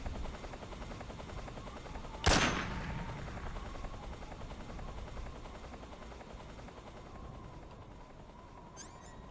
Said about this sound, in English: is the helicopter masking the noise?